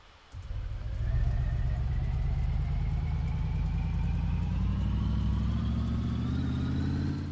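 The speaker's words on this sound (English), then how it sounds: "that's my 600 horsepower turbo inline 6" A 600 horsepower turbocharged inline-six car engine starts up and settles into a steady, loud, close rumbling idle, with a slowly rising whine over the low drone and no talking.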